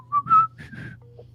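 Someone whistles a short, airy melodic phrase of a few notes, close and fairly quiet, with a low hum underneath and no talk.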